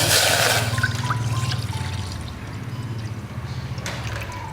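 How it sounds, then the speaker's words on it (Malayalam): Half a litre of milk is poured into a pan for spiced tea, a steady liquid trickle that is strongest at the start and then tapers into a quieter, continuous flow. "1/2 ലിറ്റർ പാൽ എടുത്തിട്ടുണ്ട്. അപ്പോൾ അത് നമുക്ക് ഒഴിക്കാം."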